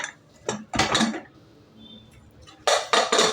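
Metallic clanks and scraping clatter as a pressure cooker lid is twisted and lifted after its whistle, in two short bursts separated by a quiet pause.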